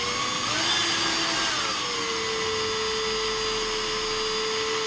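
A small power drill whines steadily as it bores a hole through a miniature figure, its pitch dipping and settling into a constant close, loud drone.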